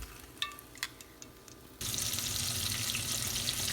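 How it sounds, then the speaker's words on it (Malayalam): Flour-coated crispy chicken tenders drop into hot oil. After a few quiet clicks, a loud, dense, continuous sizzle suddenly starts and keeps going. "ബാക്കിയുള്ള പൊടി മുക്കി വെച്ചിരിക്കുന്നത് നമുക്കിതുപോലെ വറുത്തെടുക്കാം"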